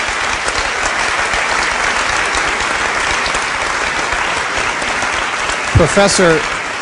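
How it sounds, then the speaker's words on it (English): Steady, dense applause from an audience at a University of Geneva panel on green energy, loud and continuous for several seconds, with a brief voice near the end. "That's worth a round of applause, absolutely."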